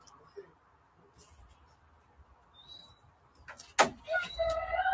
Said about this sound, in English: Is that a bird? Yeah. Can you guys hear the bird?